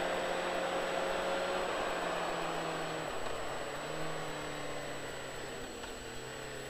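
Motorcycle on a racetrack with a steady engine drone as the throttle opens out of a corner, pitch shifting gradually, heavy wind rush throughout, no voices.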